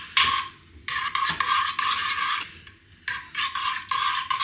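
A utensil stirs creamy gravy for IKEA-style Swedish meatballs, scraping the pan in repeated sweeping strokes with short pauses between, close and clear with no talk.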